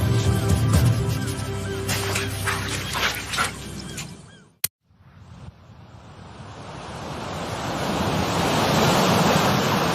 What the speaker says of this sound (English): where the river meets the sea.